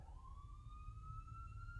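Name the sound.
siren sound effect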